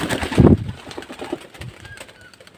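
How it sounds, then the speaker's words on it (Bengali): Female pigeons coo close by, low and throaty, with a rustle and a burst of flapping wings near the start as they take flight, before things settle down. "পায়রা সঙ্গে সঙ্গে ওড়া নিয়ে ধরে নিয়েছে"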